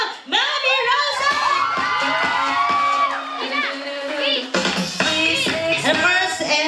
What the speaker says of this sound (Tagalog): isang malakas na hiyawan, Mami Rosa!